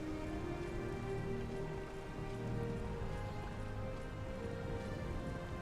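Steady rain falls in the video game Morrowind, a continuous dense patter with a low rumbling bed that stays even and fairly loud throughout, with no voices.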